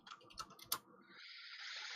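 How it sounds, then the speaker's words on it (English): Quick clicky keystrokes on a mechanical computer keyboard, a short close burst of several taps followed by a steady hiss. "My mechanical keyboard goes clickety clack, clickety clack."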